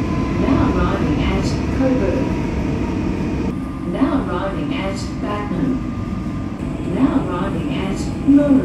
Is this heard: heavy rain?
no